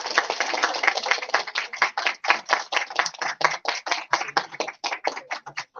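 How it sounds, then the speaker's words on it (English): Audience applause at a management conference, with dense, close rapid hand clapping in an uneven rhythm that rises and dips in short bursts for several seconds. "A big round of applause."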